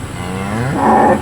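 A cow at a livestock auction lets out a single loud, close moo that rises in pitch and swells into a strong bellow before cutting off, with no talk over it.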